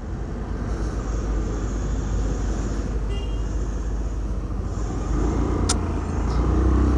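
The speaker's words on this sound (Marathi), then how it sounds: "म्हणून एवढं ट्रॅफिक आहे." Busy road traffic on a Sunday ride toward Barvi Dam makes a continuous loud engine and tyre roar with vehicles passing close by. A brief high horn or whistle-like tone cuts through near the end.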